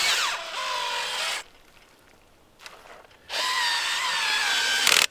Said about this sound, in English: I might get my drill with a little auger and try and use that